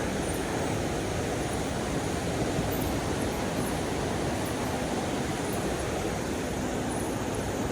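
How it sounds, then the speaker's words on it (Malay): A steady broadband rush of a river flowing under a bridge, continuous and fairly loud throughout with no voices. "Boleh dengar bunyi sungai."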